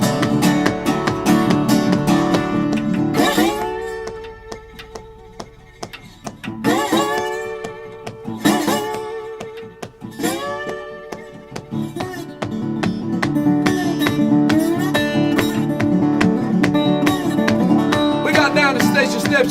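A big train squalling on a turn, imitated musically with rhythmic chugging broken by several sliding, wailing bends that rise and fall before the steady chug resumes.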